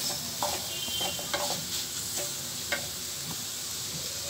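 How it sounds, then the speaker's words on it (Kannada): Potato palya stirred in a pan with grated coconut and coriander, a steady scraping and tapping of the spoon over a soft, constant sizzle, close and without talk. "ತೆಂಗಿನಕಾಯಿ ತುರಿ ಮತ್ತು ಕೊತ್ತಂಬರಿ ಸೊಪ್ಪು ಹಾಕ್ಕೊಂಡು ಸುಮ್ಮನೆ ಒಂದ್ಸಲ ಈ ಥರ ಚೆನ್ನಾಗಿ ಮಿಕ್ಸ್ ಮಾಡ್ಕೊಳ್ಳಿ"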